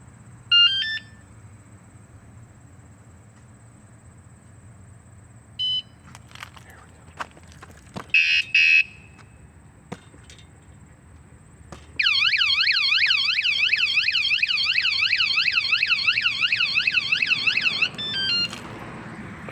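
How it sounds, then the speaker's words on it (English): Electronic beeps chirp a few times from an electric bike's anti-theft alarm, then it wails loudly in a rapid rising-falling siren pattern for several seconds before cutting off. "It has an alarm now."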